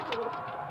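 A single short, soft throaty coo from a pigeon kept in a mated pair, heard close up and alone.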